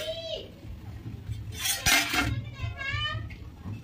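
A metal plate used as a lid clanks as it is lifted off a pot of boiling eggs and potatoes, a bright clatter midway over a low bubbling simmer, with someone talking throughout.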